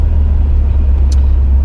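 A Renault Twingo RenaultSport 133 with its 1.6-litre four-cylinder engine drones steadily from inside the car, a loud, continuous low rumble with no speech over it.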